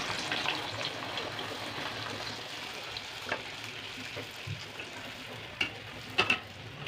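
Naan puri dough frying in hot oil, a soft continuous bubbling sizzle with occasional sharp pops and light clinks, fairly quiet and close with no talking.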